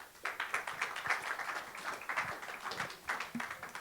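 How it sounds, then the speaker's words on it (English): An audience at a philosophy conference applauds an incoming speaker, a soft, fairly distant round of scattered clapping that carries on steadily for several seconds, with no voices over it. "Please give a round of applause to our next speaker"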